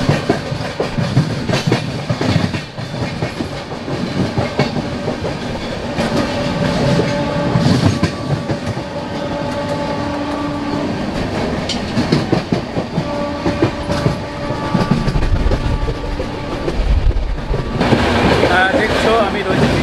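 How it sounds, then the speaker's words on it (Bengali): Ispat Express passenger train running on rails between Howrah and Ghatshila, a steady loud rumble with rhythmic clickety-clack throughout, heard from inside the carriage, with a brief horn-like tone and faint background voices. "হাওড়া থেকে 212 কিলোমিটার অতিক্রম করবে এই ট্রেন"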